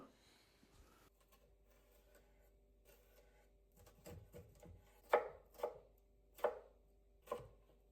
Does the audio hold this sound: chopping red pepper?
yes